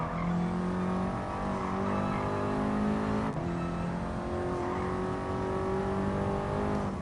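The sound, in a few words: car engine revving in video game Gran Turismo Sport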